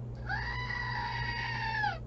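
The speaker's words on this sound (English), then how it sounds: "That's Woody, my goat" A pet goat gives one long, drawn-out bleat lasting nearly two seconds, steady and nasal, fairly close, over a low background hum, with no talk.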